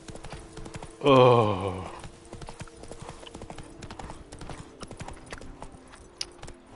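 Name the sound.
horse galloping in The Witcher 3 video game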